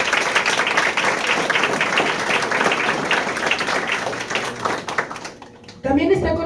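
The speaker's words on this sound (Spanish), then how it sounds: "Fuerte el aplauso, por favor." Audience applause at a university master's program panel event, steady clapping from a seated crowd lasting several seconds, then tapering off as a speaker's voice takes over.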